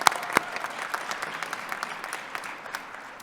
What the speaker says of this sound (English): So let's give a round of applause to our incredible faculty.